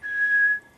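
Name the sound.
whistle imitated by the speaker to call a dog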